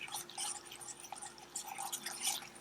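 Caramel bubbles in a pot on the stove, giving off a fast, irregular stream of small pops and crackles at low, close volume, with no talking.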